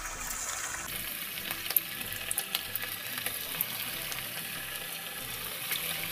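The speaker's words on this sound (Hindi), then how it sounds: "और तेल हमारा यहाँ पर गर्म हो गया है एकदम लो फ्लेम में, अच्छे से फ्राई कर लें" Tikki patties frying in hot oil over a low flame produce a soft, steady sizzle with a few light taps and pops, fairly quiet and without talk.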